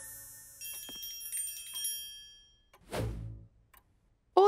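Soft bell tones shimmer and decay quietly, followed by a brief louder cymbal crash near the end.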